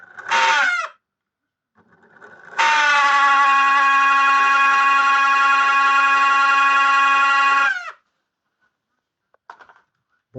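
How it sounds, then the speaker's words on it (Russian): The fan from a microwave oven squeaks in a high, shrill, siren-like whine, with one short burst and then a long sustained squeal lasting about five seconds, loud and close, with no talk over it. "Вот снял с микроволновки вентилятор и нашел, почему он тут пищит."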